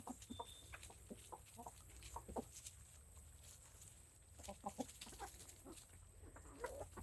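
Hens and a young rooster cluck softly nearby in short, scattered bursts over a faint steady background hum.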